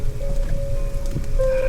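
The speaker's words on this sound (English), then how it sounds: "gentle rain coming down on the windshield" Gentle rain falls on a vehicle windshield in a forest, a dense, even wash of patter close by, with a faint steady tone running underneath.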